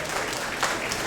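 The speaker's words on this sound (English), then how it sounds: "give yourselves a round of applause for being such a cosmopolitan bunch" Passengers aboard the cruise ship Star Princess applaud together during a day at sea, a short, dense, steady burst of clapping from a crowd.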